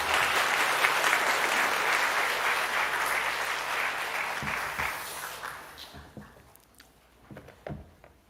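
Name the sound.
church congregation applauding in welcome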